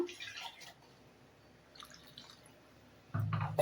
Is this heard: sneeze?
no